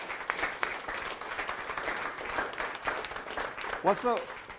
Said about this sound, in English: So I want to hear a round of applause for Zach.